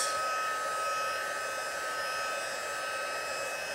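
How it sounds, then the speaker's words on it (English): A small handheld heat tool blows hot air to dry Stazon ink on watercolour paper, a steady, loud, even fan whine with a breathy roar that runs unbroken throughout and has no voices. "I just wanna hit it with the heat tool and let it dry a bit."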